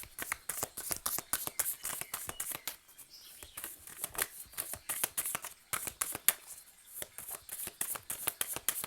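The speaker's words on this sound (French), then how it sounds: "j'ai envie de vous tirer une autre carte avec l'oracle" Oracle cards being shuffled by hand: a steady run of soft, papery riffling and flicking strokes, close and fairly quiet, with brief pauses and no speech.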